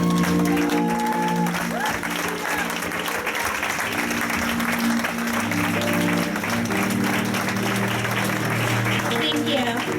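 Youth church congregation in Nigeria standing and clapping loudly, a sustained dense roar of applause with cheering voices and musical tones underneath, steady and close for the whole stretch.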